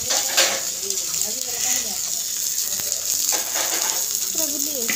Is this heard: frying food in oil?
yes